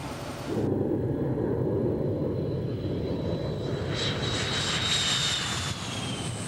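A MiG-29 jet engine roars steadily at takeoff, a loud, sustained rumble with a thin whine that rises toward the end, with no voices.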